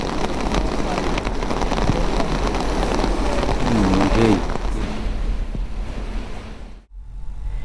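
Heavy, continuous rain in Kashmir pours down steadily and close, with a brief murmur of voices partway through before a short cutoff near the end.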